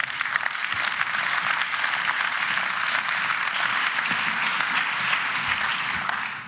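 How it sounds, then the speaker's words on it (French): Live audience at a forum event in Neuchâtel applauding as a stand-up comedian is introduced; thick, sustained clapping holds at a steady level throughout, then begins to taper at the very end. "Je vous demande d'applaudir maintenant"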